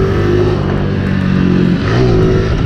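A Honda Pop 110 motorcycle fitted with an unfiltered sport exhaust revs loud and close, a continuous buzzing engine drone that dips briefly and climbs again, with no talk over it.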